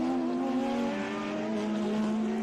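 A Ferrari race car passes on a racing circuit, a loud sustained engine drone whose pitch sags slightly as it goes by, with no talk over it.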